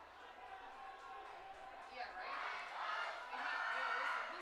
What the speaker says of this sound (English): You hear the crowd now? Maybe the loudest we heard it all night, Jake. Crowd's into it right here.